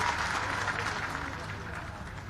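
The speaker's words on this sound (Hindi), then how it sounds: "मैं आपसे आग्रह करता हूं, तालियां बजा के उनका स्वागत कीजिए।" An audience at a statue unveiling ceremony in Gotegaon, Narsinghpur, claps to welcome a minister: a soft, steady wash of distant applause that fades slightly over a couple of seconds.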